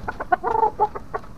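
A Filipino fighting cock clucks close by in a series of short, throaty bursts, one drawn out a little longer near the middle, with no other sound around it.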